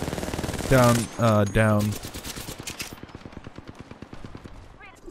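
Rapid automatic gunfire in the shooter Apex Legends rattles as a dense train of sharp cracks through most of the span, fading somewhat toward the end, with a man calling out briefly over the shots near the start.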